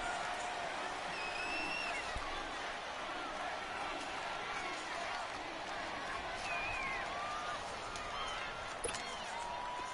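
Stadium crowd noise from a PS4 American football video game, a steady, dense roar of the crowd sustained throughout at moderate level, with faint whistle-like tones and occasional sharper accents over the broad wash.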